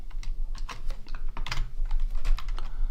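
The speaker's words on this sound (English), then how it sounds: "So we type out" Rapid, irregular keystrokes on a computer keyboard while ABAP code is entered, close and crisp with no voices for about three seconds.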